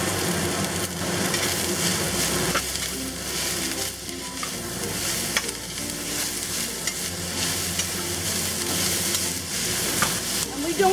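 Mu shu chicken with wood ears and green onions stir-fried in a wok, loud continuous sizzling with repeated scraping and stirring strokes throughout.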